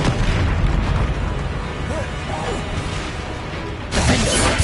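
Blasting-spell explosions from the Hogwarts Legacy video game, a dense run of booming, crashing bursts over busy game effects, loud and close, with a sharper blast near the end.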